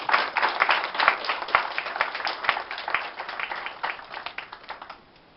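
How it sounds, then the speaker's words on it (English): Audience applause at a devotional arts presentation, a crowd clapping briskly with individual claps audible in the mix, holding fairly loud for several seconds before tapering off and stopping near the end. "I would like you all to give him a round of applause in praise for what he has done"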